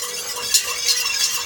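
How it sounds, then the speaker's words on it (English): Elderberry jelly being stirred in a pot on the stove, with soft, steady scraping and swishing of the spoon against the pot and a few light clinks, close by and fairly quiet with no talking. "I'll stir it again."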